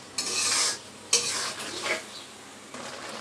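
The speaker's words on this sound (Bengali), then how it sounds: "মাছ দিয়ে কষিয়ে নেব।" Horn fish (shing) stirred into a tomato masala curry gives a few short bursts of sizzling and spoon scraping against the pan, with quieter pauses in between.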